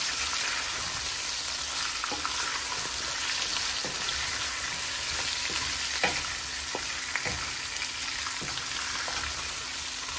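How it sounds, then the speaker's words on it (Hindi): Potato pieces frying in a pan for aloo bhujia, with a constant close sizzle and occasional sharp spoon scrapes and taps as they are mixed. No voices are heard. "अभी हम आलू ऐड करेंगे आलू को अच्छे से मिक्स कर लेते हैं"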